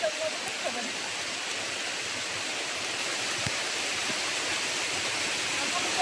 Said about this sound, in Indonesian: Tiba-tiba hujan ah.